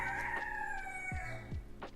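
A rooster crows loudly and continuously close by, a long drawn-out call over a steady background with a few brief thumps.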